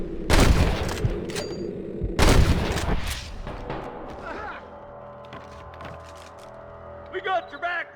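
Video game gunfire bursts out in two loud, close volleys of rapid shots, then dies away into quieter scattered sounds and distant pops, with voices heard near the end.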